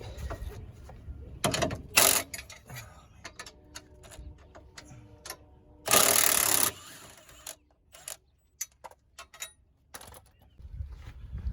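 A ratchet wrench clicks in short, uneven bursts on a sway bar link bolt under a Dodge Charger R/T 5.7, with a few louder rasping strokes and metallic clanks nearby.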